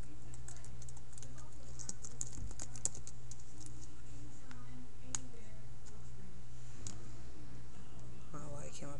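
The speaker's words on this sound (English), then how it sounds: "now you want to type in your name" Name being typed on a computer keyboard while working on a Photoshop text effect, heard as a quiet, irregular run of light key clicks over a low steady hum.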